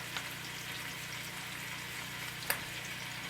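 Spinach simmering in a stir-fry pan with no soy sauce, giving a steady, soft bubbling sizzle throughout, fairly quiet, with one brief sharper pop near the end.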